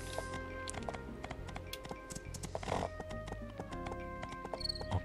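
Horse hooves clopping steadily while riding in the farming-life video game My Time At Portia, set against layered game music, with a brief whinny near the end.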